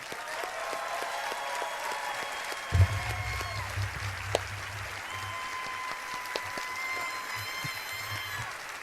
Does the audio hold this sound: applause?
yes